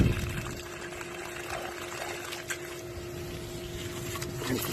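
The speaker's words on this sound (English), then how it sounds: "Rinse the side of this thing off." Water from a hose rinsing the side of a paint sprayer outdoors, a steady, close splashing and pouring rush with a faint constant tone underneath, no talking.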